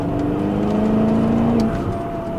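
A 2011 BMW X5 M engine pulling hard under acceleration, heard from inside as a loud, steady drone with a rising whine that climbs in pitch, then drops as the gear changes.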